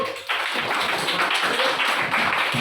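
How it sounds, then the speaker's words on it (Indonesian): Classroom applause for a student group, a steady dense patter of many hands clapping together, loud and close, beginning after a brief quieter moment and continuing throughout. "kasih aplaus ke kelompok 1"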